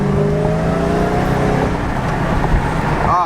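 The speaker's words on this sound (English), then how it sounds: "Here's the sound of that superchargers y'all all love." A Dodge Hellcat with its supercharger and cold air intake revs up with a loud, rising engine whine that holds steady, close by and with no talking.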